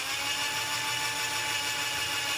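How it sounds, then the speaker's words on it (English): A power drill spins steadily with a magic marker held against the bit, giving a continuous high whine at moderate level with no speech. "and turning the drill on"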